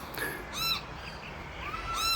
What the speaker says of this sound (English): And you can hear all the birds in the background.